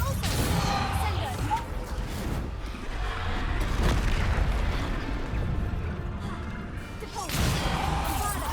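Repeated Bombarda spell blasts in the Hogwarts Legacy video game, loud crashing booms in quick succession over a dense combat din, with a brief lull in the middle before another burst.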